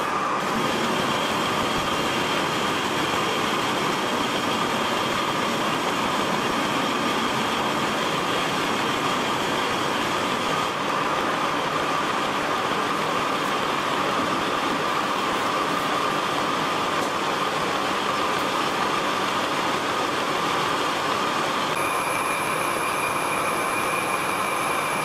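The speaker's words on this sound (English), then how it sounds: "I'm currently eating away inside this cavity here, and I'm taking about 50 thou depth of cuts each time" A metal lathe takes roughing cuts about 50 thou deep inside a flywheel cavity for a four-stroke engine build, giving a steady, continuous grinding whine that holds loud and even throughout, with a higher tone joining near the end.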